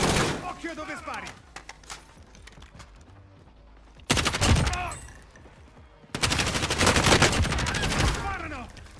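Bursts of gunfire ring out in a battle royale video game, with rapid automatic volleys and single shots, loud and close, over game announcer voice lines and music-like effects.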